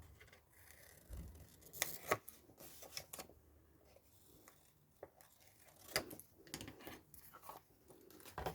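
Scissors snip the corners of a sewn fabric pocket in a home craft session, giving several short crisp cuts and rustles of cloth spread unevenly across the clip, close and fairly quiet.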